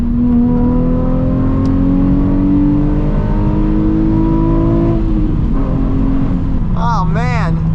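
A 2007 Nissan 350Z HR engine pulls hard under acceleration with the AC on, its revs climbing steadily for about five seconds before easing off, loud and close from inside the car.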